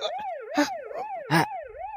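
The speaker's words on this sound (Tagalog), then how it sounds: "sirina ti lugan dagiti pulis" A police car siren wails loudly and close, rising and falling in a steady repeating cycle, with a couple of brief heavy thumps breaking in along the way.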